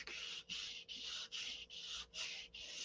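Green clear sandpaper rubs over painted metal in seven steady back-and-forth strokes, each a loud, close hiss with brief gaps between.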